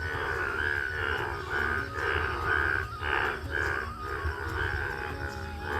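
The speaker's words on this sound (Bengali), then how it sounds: "একটা কানা পুকুরে ব্যাঙের ডাক শোনো" Many frogs croak in a shallow rain-filled pond, a pulsing chorus of repeated calls in steady overlapping bursts, close and moderately loud with no talking.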